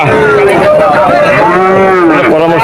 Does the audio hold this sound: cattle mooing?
yes